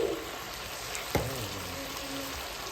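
Chili ingredients frying in grease in a pot over a wood fire, a close, steady sizzle with one sharp clink midway and faint crackle throughout.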